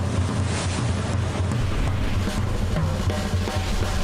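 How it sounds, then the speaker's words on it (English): Strong wind howling and buffeting the microphone on the beach at North Narrabeen during a wild surf contest day, with steady loud gusts and crashing surf roaring throughout. "Just started absolutely howling down here. Wild and windy day down here in North Narrabeen"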